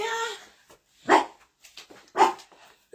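Dogs bark in two loud, separate bursts about a second apart, with softer scattered sounds between them and a brief tonal sound at the very start.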